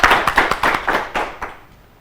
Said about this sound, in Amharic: አጨብጭቡላችሁ አጨብጭቡላችሁ